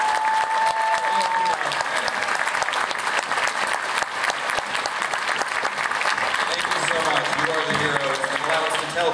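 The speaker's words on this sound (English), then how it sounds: "So, round of applause." Audience at a Wizard World St. Louis convention Agent Carter Q&A panel applauding, a dense, sustained wash of many hands clapping loudly throughout, with some crowd noise mixed in.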